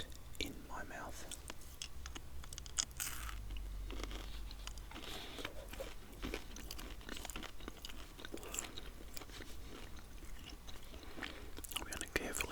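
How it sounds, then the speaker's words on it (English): Close-up gum chewing with LA Health collagen gum, soft wet smacks and crunchy bites repeating steadily throughout, mixed with quiet whispered talk. "LA Health collagen gum, my new preferred gum, and I'll pop that in my mouth."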